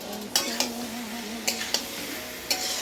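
Egg curry masala with fried eggs being stirred in a pan, a steady low sizzle broken by a few sharp scrapes and clinks of a spoon against the metal.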